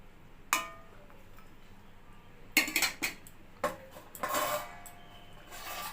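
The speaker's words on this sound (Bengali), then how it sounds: "এবার আমি এক এক করে ভেজে রাখা মাছগুলো দিয়ে দেব দিয়ে একটু নাড়াচাড়া দিয়ে" Fried bata fish pieces go one by one into a simmering lau shak curry and get stirred in a metal pan: a few sharp clinks and scrapes of a spatula, sparse and fairly quiet, with no talking.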